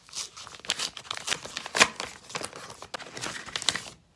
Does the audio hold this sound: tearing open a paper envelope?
yes